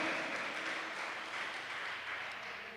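A church congregation claps in praise during a sermon, a steady, continuous patter of many hands at moderate volume that carries evenly throughout.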